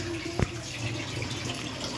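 A tap runs steadily while dishes are washed at home, a continuous soft rush of water with one brief knock from a vessel partway through.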